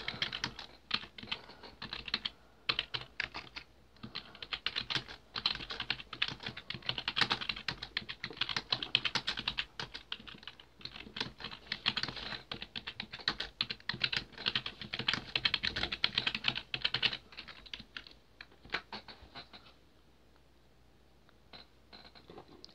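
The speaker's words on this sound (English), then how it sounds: "Hold on, let me type it." Rapid typing on a computer keyboard, a steady close patter of keystrokes with brief pauses, continuing for about twenty seconds before trailing off into quiet.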